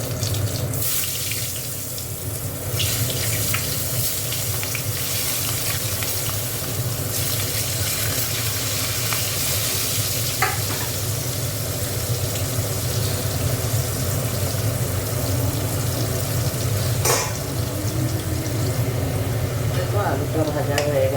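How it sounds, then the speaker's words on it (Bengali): Potatoes frying in hot oil in a kadai, a constant loud hiss and sizzle that holds steady with only small flickers of crackle. "আলুগুলো ভেজে নেবো।"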